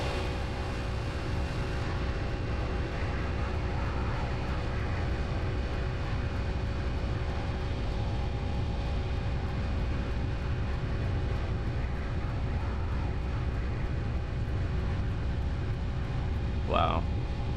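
FF757 airliner engines roar steadily during takeoff in the X-Plane 11 flight simulator, a continuous broad drone with faint tonal whine that holds unchanged throughout, with one short blip near the end.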